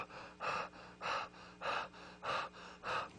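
A man imitates a woman's shallow, fast breathing under an oxygen mask, with five quick, evenly spaced breathy gasps close to the listener and short pauses between them.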